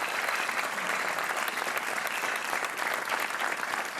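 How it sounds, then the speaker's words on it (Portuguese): Studio audience on the RTP 1 game show Joker applauds a contestant, a dense, steady wash of clapping filling all four seconds at even loudness. "um aplauso para o nosso Super Joker"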